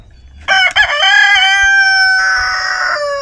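Backyard chickens: a rooster gives one loud, close cock-a-doodle-doo crow that swells and holds for a few seconds, with a faint hen cluck just before it.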